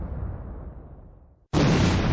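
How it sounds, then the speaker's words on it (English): A deep, rumbling explosion tail fades out to near silence, then a sudden, loud blast erupts and holds at full strength. No voices are heard. "Explosion."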